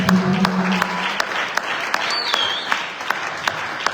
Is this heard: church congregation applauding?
yes